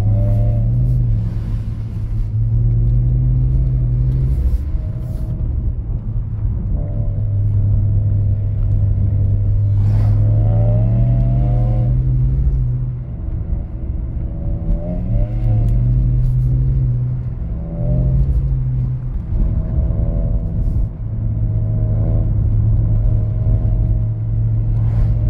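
BMW E46 and E92 cars (325i, 335i, 320i) revving hard while drifting on snow, engine notes rising and falling in loud sustained pulls with harmonic whine, near and continuous throughout.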